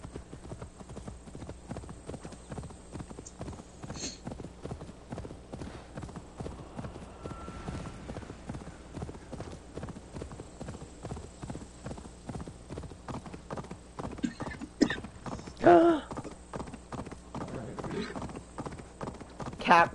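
Horse hooves clip-clopping steadily in a video game, a continuous rhythmic trot heard throughout with a brief whinny, while a person talks over it at times.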